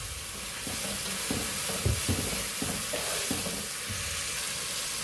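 Browned onions and tomatoes fry in a pan for chicken kadai masala, giving a steady hissing sizzle with soft intermittent stirring scrapes close by.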